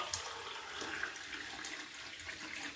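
Water runs steadily from a tap into a kitchen sink during cleaning, a continuous close splashing hiss lasting the whole stretch with no voices.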